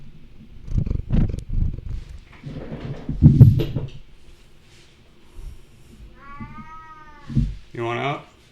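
A cat in a studio gives several meows, including rising drawn-out calls near the end, mixed with low rumbling and handling noises; a person speaks in between.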